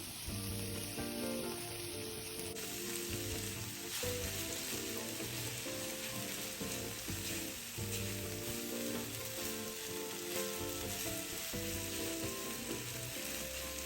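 Char siu stir-fried with char siu sauce in a pan: a dense, loud, continuous sizzle like rain, with the scrape of stirring running through it, close and steady without talk.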